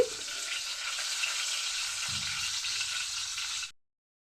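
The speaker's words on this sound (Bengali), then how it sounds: "গোটা এলাচ, দারচিনি, দিয়ে দিচ্ছি পাঁচফোড়ন। আমি একটু ভেজে নিচ্ছি।" Whole cardamom, cinnamon and panch phoron fry in hot oil with a continuous crackling sizzle, a short stirring scrape midway, then the sound cuts off abruptly; no voices are heard.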